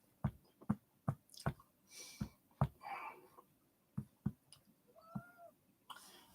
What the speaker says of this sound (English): Fucking cat, right? Pain in the arse lately.